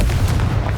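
A Confringo spell explosion in the Hogwarts Legacy video game lands as a loud, deep booming burst that rumbles steadily through a short moment without a distinct sharp attack.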